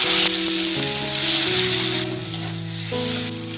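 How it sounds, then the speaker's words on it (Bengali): Nigella seeds, dried red chillies, bay leaves and chopped tomatoes fry in oil left over from frying potatoes, a loud continuous sizzle up close with a faint background hum. "এই আলু ভাজা তেলের মধ্যে দিয়ে কালো জিরে ফোড়ন, দিয়ে দেবো দুটো শুকনো লঙ্কা, দুটো তেজপাতা, দিয়ে দেবো দুটো টমেটো কুচি"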